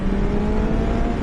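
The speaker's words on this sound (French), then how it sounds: "J'ai essayé de me mettre dans un endroit isolé vite fait pour vous faire écouter le bruit du moteur." A BMW S1000 XR motorcycle with an Akrapovic exhaust runs with a loud, steady engine roar, close and continuous without breaks.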